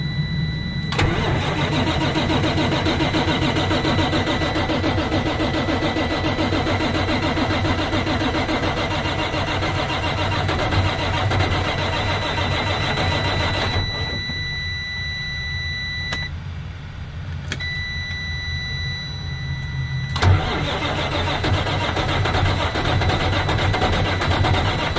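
A Freightliner truck's diesel engine cranks and cold-starts, then runs with a loud, steady idle over a long stretch, briefly dropping away mid-clip before catching again, with a high whine and a short beep among the rumble.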